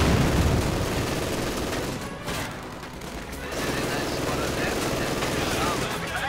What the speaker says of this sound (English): Conscripts caught in the middle of the village and getting raked with bullets right there.